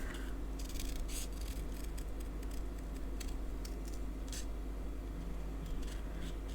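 Scissors cutting paper for a handmade card, a series of faint, short snipping sounds over a low steady hum, with no talking.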